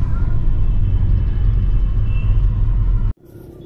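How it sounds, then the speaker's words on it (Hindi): Inside a car stuck in a traffic jam in Srinagar's market area, a steady low engine and road rumble fills the cabin, close and loud, then cuts off abruptly near the end. "अभी ट्रैफिक जाम में फंसे हैं"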